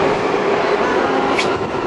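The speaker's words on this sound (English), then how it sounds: "We are at Canary Wharf here, shooting inside the tube." Inside Canary Wharf tube station, a London Underground train makes a loud, steady rumbling roar at close range, with a brief high squeal cutting through near the end.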